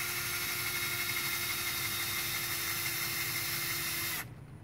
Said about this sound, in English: drill it in like so.